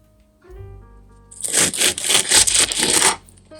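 Loud crisp crunching and crackling as a knife saws through a crunchy Belgian sourdough waffle, a dense burst of brittle cracks after a quiet start.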